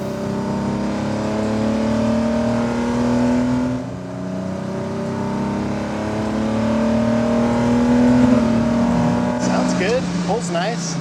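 A modified JDM car accelerates hard along the road, its engine droning loudly and rising steadily in pitch through the gear, with people talking over it from inside the car.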